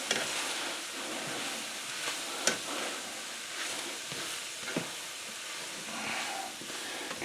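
Rice kernels being stirred while frying in a pan for homemade fried rice, a steady hiss of sizzling with occasional sharp scrapes and clinks of the utensil against the pan, close and moderately loud.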